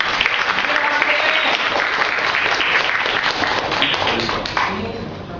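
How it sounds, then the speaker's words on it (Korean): Warm applause from a student lecture audience welcoming a speaker to the stage, dense steady clapping with scattered voices and cheers over it, easing slightly toward the end. "김기범 씨 나올 때 뜨거운 박수 부탁드립니다"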